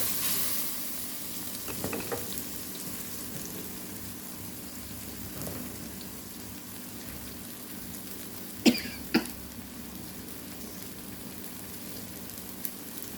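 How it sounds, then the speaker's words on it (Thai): Blended chili paste stir-fried in an oiled wok for a pork belly and bean dish gives a steady sizzling hiss, with a couple of sharp spatula scrapes in the middle and no talking. "ก็จะใส่เครื่องที่ปั่นนะ ผัดเครื่องให้หอม"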